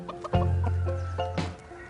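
Hens behind the hen house door cluck nearby in short bursts, with one sustained low note partway through, and no talk over them.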